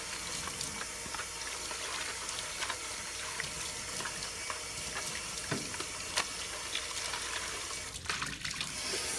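Water streams steadily from a tap to rinse a kick potter's wheel, a constant close splashing and trickling wash that runs the whole time with no voices.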